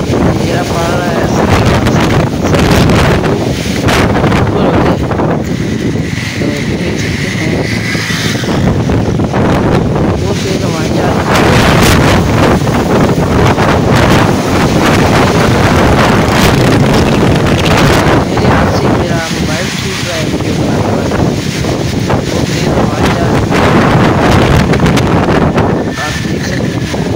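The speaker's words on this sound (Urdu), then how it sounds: "بہت تیز ہوائیں جا رہی ہیں" Strong wind before rain roars and gusts loudly against the microphone for a long stretch, surging and easing in waves, with someone talking intermittently over it.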